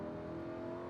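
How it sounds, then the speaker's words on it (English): A Lamborghini Huracan engine holds a steady, sustained roar at full throttle on a racetrack, a brief continuous blast heard from inside the car with no voices. "Squeeze the full throttle all the way up"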